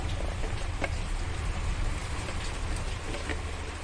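Rain falling outside, a steady, even hiss of drops with a low rumbling undertone, moderately quiet and uninterrupted, with no voices.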